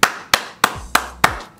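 Hand clapping: five sharp, crisp claps at an even, unhurried pace, close and clear with short decays and nothing else in between.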